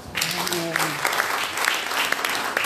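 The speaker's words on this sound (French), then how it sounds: "Je vous applaudis au nom de Jésus" Church audience applauding at a ceremony honouring women servants of God, lively crowd clapping that swells after a short spoken phrase and continues steadily.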